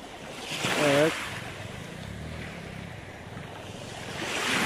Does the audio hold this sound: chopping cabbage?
no